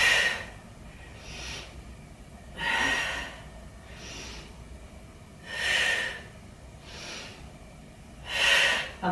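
Someone doing a Pilates leg and core exercise breathes out forcefully, giving strong breathy exhales that come roughly every one and a half seconds and alternate with softer ones, close up and with no talk.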